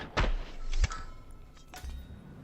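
Suppressed gunshot in Hitman 2 fired through a window and curtain at a target: a sharp muffled thump, then a second heavy thud and fainter knocks trailing off.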